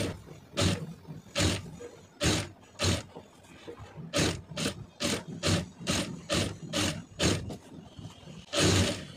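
A sewing machine stitches the neckline of a blouse in a series of short whirring bursts, some quick and some longer, separated by brief pauses, close and clear with no talking.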